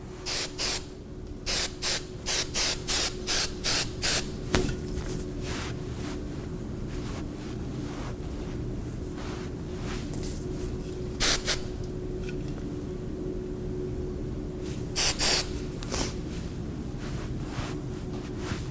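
Hairspray sprayed over styled hair during a hair styling class, a quick series of short hissing bursts in a row, then a pause and a few more bursts, close and fairly loud over a steady low background hum.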